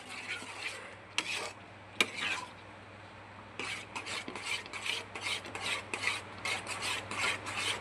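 A spoon scrapes and stirs through a thick milk khova mixture with semolina in a pan, giving repeated rasping strokes in a steady rhythm with a couple of sharp knocks against the pan.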